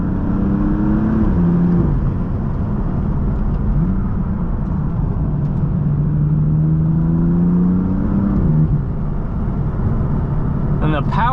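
BMW F80/F82 M3/M4 engine pulling steadily under acceleration while driving, a continuous close drone with shifting harmonic tones, a person speaking over it throughout.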